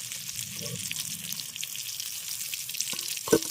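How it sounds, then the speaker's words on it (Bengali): Whole eggplants frying in oil give a soft, steady sizzle, close and fairly quiet, with a brief sharp tap near the end. "বেগুনগুলোকে ভেজে নিয়েছি বেগুনগুলো বেশ নরম হয়ে গেছে"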